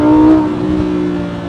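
A rear-wheel-drive Lamborghini Huracan Evo accelerates hard on a racetrack, a loud close engine roar that peaks at the start and then eases into a steady high-revving tone.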